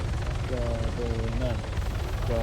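A helicopter lands on a rooftop in the military game Arma 3, its rotor thumping low and steady beneath people talking.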